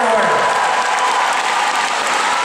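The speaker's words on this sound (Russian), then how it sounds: "Ваши аплодисменты, Аделина." Loud, continuous applause from an ice show audience welcoming Olympic figure skating champion Adelina Sotnikova, with dense clapping and a little cheering; a voice is briefly heard at the start.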